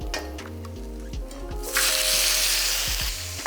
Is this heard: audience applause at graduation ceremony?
no